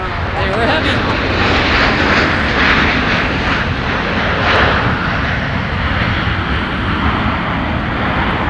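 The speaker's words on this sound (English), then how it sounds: "They used the whole length of the runway pretty much to get airborne." A heavy airliner roars down a winter runway at MSP airport on takeoff, a loud continuous broadband engine rumble swelling and fading slightly, with people talking over it.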